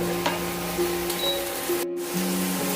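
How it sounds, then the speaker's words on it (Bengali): Green chili paste and spices sizzle steadily while being stirred in a hot pan for a prawn malai curry with coconut, a continuous frying hiss with no talking. "এগুলোকে ভালোভাবে নেড়ে চেড়ে কষাতে হবে।"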